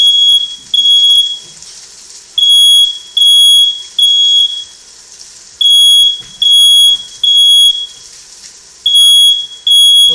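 Home smoke detector going off during cooking, sounding a loud, piercing electronic beep in repeated regular bursts with short pauses between them, close by and alone.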